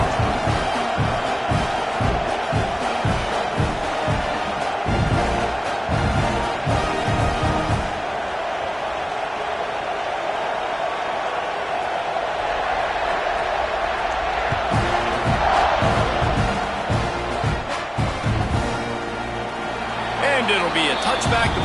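A college football stadium crowd roars in a steady, dense wash of cheering after a score at an Arizona versus Texas A&M game, loud and continuous, with a play-by-play voice talking over it.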